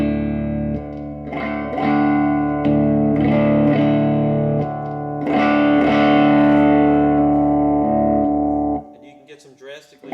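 An Acme Hotrod Blacktop Tele electric guitar played with both pickups on, giving loud sustained chords through a distorted effects chain with reverb, repeated strums that ring out, then a brief scrape of strings at the end.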